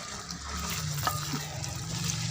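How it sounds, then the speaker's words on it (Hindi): Okra and ridge gourd for a Pakistani bhindi turi dish fry in a pan with a steady close sizzle and occasional stirring scrapes. "अब इसे थोड़ी देर के लिए तलेंगे"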